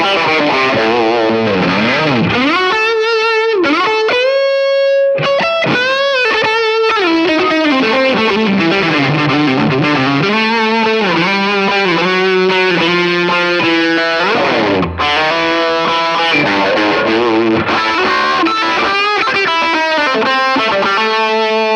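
Electric guitar driven through a Boss Power Stack drive pedal into a Walrus Audio ACS1 amp simulator, playing loud, continuous distorted chords and riffs with harmonically rich overdrive, alone and without talk.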